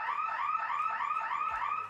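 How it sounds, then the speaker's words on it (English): A loud electronic buzzer ends a touch rugby club championship match, sounding as a continuous, warbling tone for about two seconds with a steady rising pulse and no voices over it. "Right on the buzzer."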